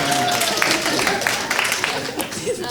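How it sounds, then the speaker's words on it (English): Audience clapping on request at an ensemble performance, a loose crowd of hands patting for a couple of seconds under a murmur of voices. "can you do a clap for me? Oh, clap. Yeah, just a clap, just clap."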